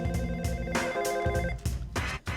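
A telephone rings in repeated bursts, a bright electronic trill pulsing steadily several times at moderate loudness, with no voices over it.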